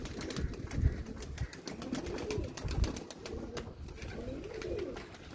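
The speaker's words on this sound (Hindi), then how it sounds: "बाथ साल्ट, परिंदे बड़े खुश होकर इससे नहाते हैं जी।" Sultan and Serbian pigeons bathing in bath salt, with soft repeated cooing close by, light fluttering and splashing, and a background of rhythmic ticking.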